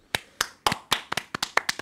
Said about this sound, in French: Hey, s'applaudir.